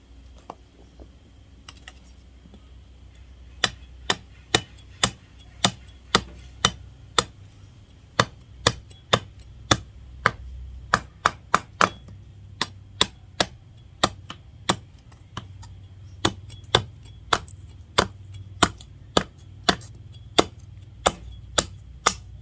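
A wooden slingshot stock being carved by hand gives a long series of sharp, close knocks and cuts, spaced unevenly and repeating steadily, with no talking.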